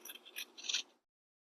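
Close, quiet snips of scissors trimming the fabric of a bag lining, several short cuts in quick succession, then silence.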